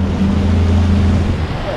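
Mercury 250 V8 Pro XS four-stroke outboard on a motorboat with a 24-pitch Tempest Plus prop, a steady loud low engine drone over water and wind noise throughout.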